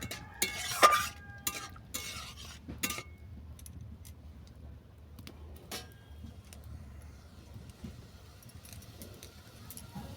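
Prawns are stirred in a pan, giving scattered metallic scrapes and clinks over a faint, low sizzle, with louder strokes early that then thin out.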